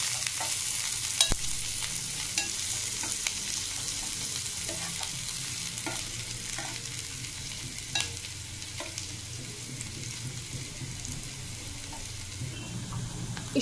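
Finely chopped onions sautéing in a pan for tomato curry, a soft even sizzle running throughout with scattered light stirring clicks.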